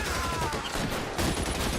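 Dense, overlapping gunfire rattles without pause in a shootout in L.A. Noire, loud and close for the whole two seconds.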